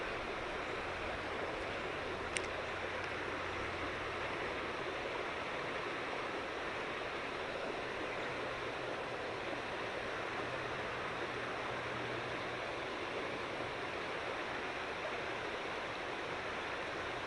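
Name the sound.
river water flowing over rocks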